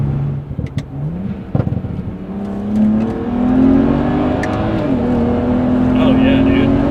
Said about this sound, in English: I'm hardly touching the throttle. Right. And this thing rips.